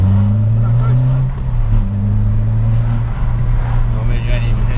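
A Renault Clio 172 or 182 engine drones steadily while driving, loud and close inside the car, pitch shifting once mid-way, with people talking over it.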